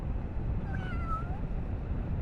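A cat meows once outdoors on a quiet, foggy morning: a short, rising-and-falling cry at moderate distance over a steady low rumble.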